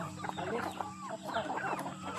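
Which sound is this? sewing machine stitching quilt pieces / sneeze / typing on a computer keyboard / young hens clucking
young hens clucking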